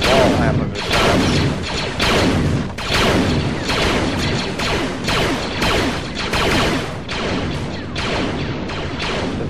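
Dense, continuous gunfire from a Clones of War mod battle at a clone outpost, with rapid overlapping shots and booms sustained loudly throughout, with no voices heard.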